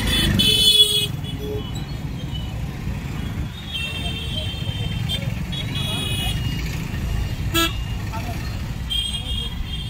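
Heavy evening traffic at the main entrance road in Arunachalam, with a dense rumble of cars and motorcycles, several short horn toots, and a person talking nearby.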